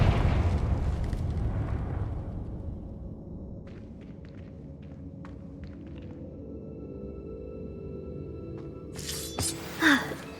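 A Confringo blasting spell goes off in Hogwarts Legacy with a loud, rumbling burst that decays into a low, lingering roar, followed by scattered light clatters and a sharp crackle near the end.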